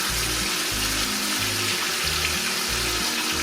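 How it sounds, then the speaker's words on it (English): A Montreal-seasoned crusted steak sizzles loudly and steadily in a hot pan, a dense continuous frying crackle with no talking. "You want to hear it sizzling."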